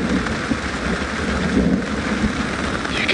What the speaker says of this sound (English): There's thunder and lightning in the distance.